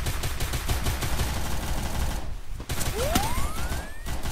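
Rapid bursts of gunfire in a shooting video game, dense and loud, with crackling volleys rolling one after another and a rising whistle-like tone near the end.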